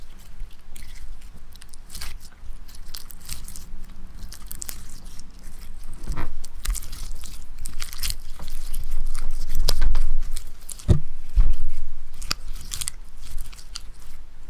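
Wet, sticky ASMR slime goo being squished and pressed close to the microphone, a continuous stream of crackly, squelching textures with scattered sharper pops and crunches, steady and intimate with no talking.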